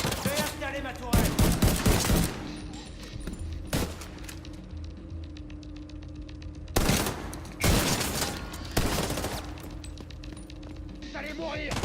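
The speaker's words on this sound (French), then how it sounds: "Je vais installer ma tourelle." In The Division 2, a deployed turret fires bursts of rapid gunfire, loud and sharp, in several clusters mixed with other gameplay shots while a player talks over it.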